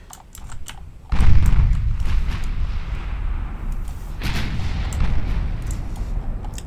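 Heavy 13-inch battlecruiser guns boom in a naval warship game: a sudden loud blast, then sustained rumbling gunfire with further booming reports, no voices.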